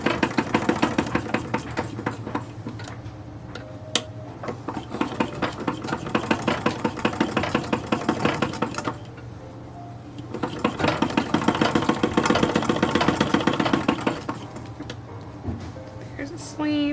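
A sewing machine stitches the shoulder seam of a small wool doll dress, running in rapid, steady mechanical bursts with brief pauses between runs, close and clear.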